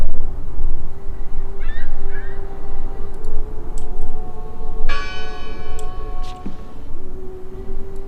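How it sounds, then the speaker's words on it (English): A church bell in the video game Draugen rings out steadily with long, resonant tones over a low ambient rumble, with a brief bright clang partway through. "Listen! The bell! They're still in there!"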